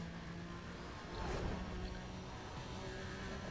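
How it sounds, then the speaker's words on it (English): A steady engine drone from a BMW 1 Series M Coupe in the video game Need for Speed World, continuous and moderately loud, with a brief swell in the middle as it revs or passes. "Engine sound, your typical BMW engine sound."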